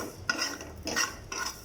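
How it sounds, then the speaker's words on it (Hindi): Pickle ingredients for a lemon and green chilli pickle are dry roasted in a pan over a very low flame, a utensil scraping and stirring them in three soft, close strokes. "इनको बिल्कुल लो फ्लेम पे जो है आपने ड्राई रोस्ट कर लेना है 2 से 3 मिनट के लिए"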